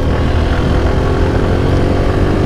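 A Suzuki Gixxer Monotone motorcycle engine runs steadily while riding, a loud, continuous drone with wind rush, close and unbroken with no talk.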